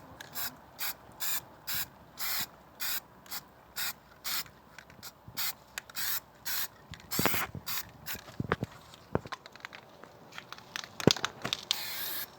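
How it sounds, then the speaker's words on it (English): Sealant coating is sprayed onto a leaky bird bath in short, even hissing bursts from a spray can, a regular rhythm of spurts that turns into scattered, irregular sprays, close by. "every little spot has been sprayed on"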